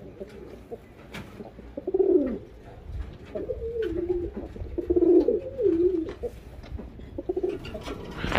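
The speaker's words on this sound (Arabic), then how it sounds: "ممكن تشوفوا الحميمات سبونطاني، الجماليه ديال الاسود الجميل" Pigeons coo in soft, low, rolling phrases, several repeated bursts close by with faint background rustle and light clicks between calls.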